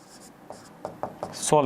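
A maths solution being written out by hand, heard as a series of short pen strokes and taps, close and fairly soft, with a voice starting to speak at the end.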